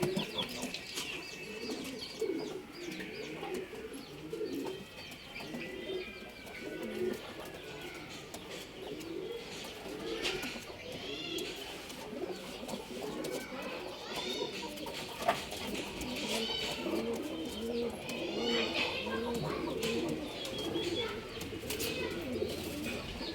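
Male pigeons in a loft in Bangalore coo in repeated soft, throaty rolls, several birds overlapping up close, with occasional chirps and someone speaking intermittently underneath.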